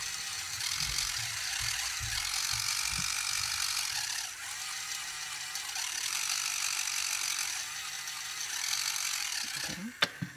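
Toy robot's small motors and wheels running after being switched on, a steady whirring, ratcheting gear noise close by, ending with a couple of sharp clicks.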